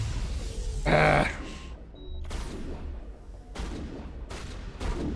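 Gunfire in the video game Mass Effect 1: one sharp, loud blast followed by several quieter, irregular shots spaced over a few seconds, with game ambience between them.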